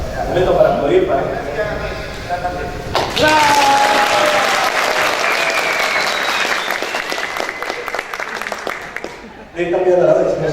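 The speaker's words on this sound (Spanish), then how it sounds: "Momento para aplaudir" Audience applause at a talk on web development with ASP.NET MVC 4.0, a loud, dense burst of clapping that fills most of the stretch, with talk before and after it.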